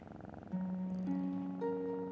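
A male cat purrs steadily at a veterinary clinic during an examination for a suspected cancer, a continuous close, moderately loud purr that runs unbroken throughout.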